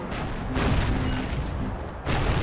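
Gunfire in the old World War II shooter Call of Duty lands as a few dull booming shots over a constant rumble of battle noise, heavy and close.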